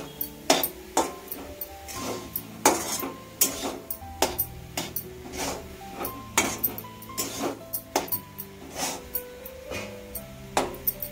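Carrot halwa roasting in Dalda in a pan, heard as repeated spoon scrapes and metallic clinks against the pan in an irregular rhythm, close and fairly loud, no speech.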